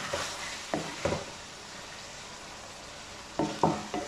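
Minced meat keema with crushed red chilli fries in oil, a low steady sizzle broken by a few scraping stirs near the start and again near the end.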